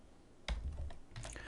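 Keys clatter on a computer keyboard, quiet at first and then a short run of close, uneven taps and clicks in two quick bursts.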